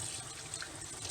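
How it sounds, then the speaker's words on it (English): Warm tap water runs steadily into a sink while soap is rinsed off hands, a constant close splashing hiss with no talk. "you are going to now rinse off all that soap that you just put on your hands"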